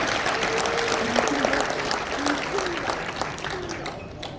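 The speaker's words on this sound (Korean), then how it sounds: "다시 한번 뜨거운 박수로 응원해 주시기 바랍니다." Applause from an audience at an overseas Koreans' world leaders congress, a steady wash of clapping with faint voices mixed in, thinning slightly toward the end.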